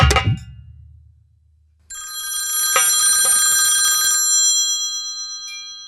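A telephone bell rings loudly and steadily for several seconds in a comic folk-theatre nautanki stage show, following a brief thud and a moment of near silence.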